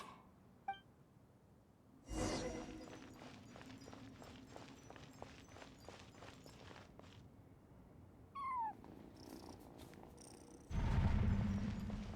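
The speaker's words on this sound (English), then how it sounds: "I followed the cat's cries to find my way out." Cat cries from the Genshin Impact video game, with a faint short meow early, then a run of rhythmic, repeated cries over ambient game music, a rising squeal near the end and a loud low rumble closing out.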